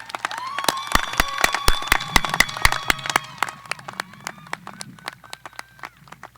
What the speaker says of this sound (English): Let's give them a big round of applause for all they have done to support